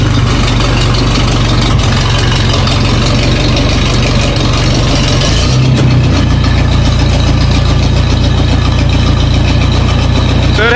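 An ATV engine idles after starting and warms up, a loud, steady low rumble running continuously up close with no break and no talk.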